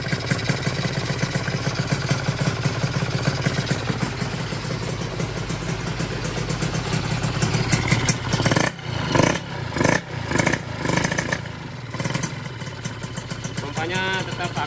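A Yamaha FIZR 125 motorcycle engine on its first run after a build, idling with a steady, dense mechanical drone close by, then a few quick throttle blips near the end.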